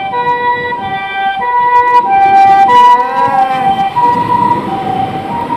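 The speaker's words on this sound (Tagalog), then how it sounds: "Tingnan mo yung ambulansya nila." A loud, close ambulance siren wailing in a two-tone alternating pattern, with faint traffic rumble underneath, in Japan.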